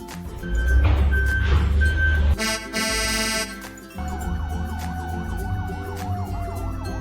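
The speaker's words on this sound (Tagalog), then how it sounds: "gusto kong iparamdam sa inyo ang tunog ng aking fire truck" A fire truck siren wails in rising and falling cycles, then shifts to a faster warbling pattern, loud and close with a low engine rumble beneath.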